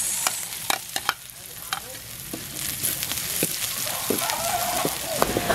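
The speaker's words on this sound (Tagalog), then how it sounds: "ginisa natin yung sibuyas" Garlic and onions sautéing in a pan for sinarsahang bulalo, a steady close sizzle broken by sharp scraping clicks of stirring, with no voices.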